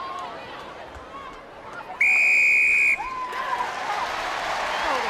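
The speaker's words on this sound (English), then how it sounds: "Big whistle, big early penalty" At a women's Six Nations rugby match between England and Ireland, a referee blows one loud, sustained whistle of about a second, sharp over the steady murmur of a large stadium crowd.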